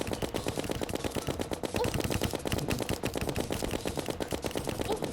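Rapid, unbroken stream of gunfire from the Minishark, a demonic-modified automatic gun in Terraria, the fast rattling shots running continuously at a steady clip with no pauses or talking.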